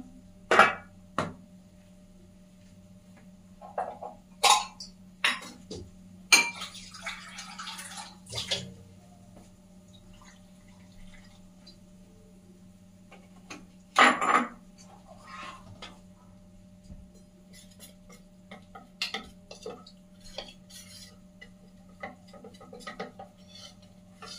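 A spoon stirs a scoop of cornflour into water in a bowl, making scattered bursts of clinks and soft swirling, close and fairly quiet, separated by pauses over a low steady hum.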